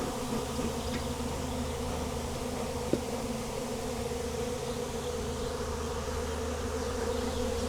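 A dense, steady buzz of a massive wild bee swarm close by at a barn, continuous throughout with one brief click partway in.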